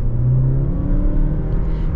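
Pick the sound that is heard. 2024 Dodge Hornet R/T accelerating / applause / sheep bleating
2024 Dodge Hornet R/T accelerating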